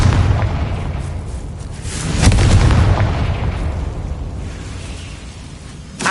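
Confringo spell blast in Hogwarts Legacy on PS5, a loud booming explosion that swells around the two-second mark and then rumbles and fades over a steady wash of game noise.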